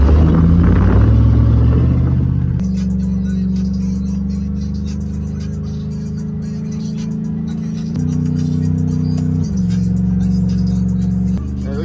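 A car fitted with a TH400 transmission accelerates on a test drive, its engine a loud, steady interior rumble that swells, settles into a sustained drone and then shifts pitch as it climbs, heard up close from inside.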